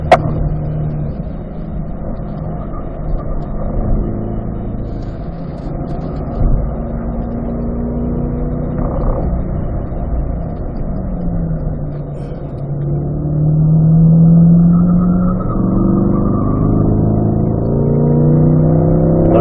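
A car on a performance driving school course accelerates in fourth gear, its engine a steady loud drone heard from inside that climbs in pitch and swells louder toward the end.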